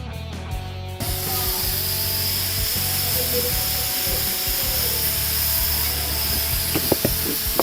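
Oil sizzles steadily in a pan while banana flower is cooked, a dense continuous hiss that starts abruptly after a short quieter moment and carries on loud and close, with a few small pops near the end.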